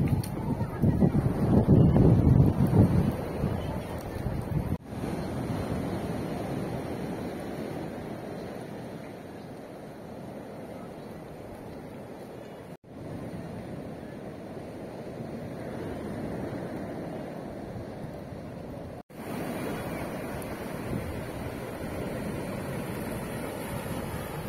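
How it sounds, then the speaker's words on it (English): Large Pacific Ocean waves break at the edge of the Magpupungko tidal pools in Siargao, making a continuous broadband roar with a louder surge at the start, heavy wind rumble over the microphone, and no talk. "we're seeing huge wave coming from the Pacific Ocean"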